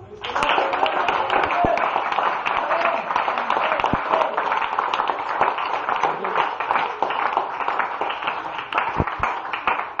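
A church congregation claps together in steady, dense applause during a worship service, loud and sustained for the full stretch, with scattered voices mixed in.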